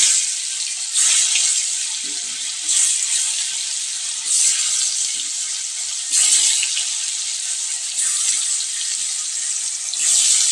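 A cooking pot being scrubbed with surf detergent and water at a home kitchen sink, with steady running water and rhythmic scouring bursts recurring every couple of seconds, close and fairly loud.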